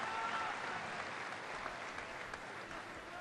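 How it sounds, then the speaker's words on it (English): Football crowd at a Portadown versus Manchester United match applauding an attempt on goal, a faint, distant spread of clapping across the stand, steady and muffled. "But some applause there for that effort from Stephen Livingston."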